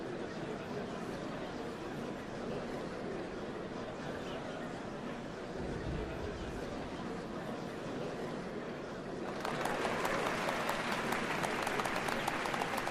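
Crowd applause in the Final Fantasy XIV online game at the Dawnservants ceremony: a steady wash of clapping and murmuring that continues throughout, growing louder and brighter near the end.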